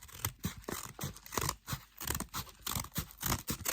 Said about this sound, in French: On va prendre, je crois, un ciseau parce que j'arrive pas à ouvrir.